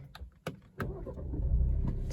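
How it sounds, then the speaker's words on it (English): A solid thud of a car door closing on a 2020 Alfa Romeo Giulia Ti, a few sharp clicks first, then a low heavy thump and a muffled interior hum. "Same solid door sound."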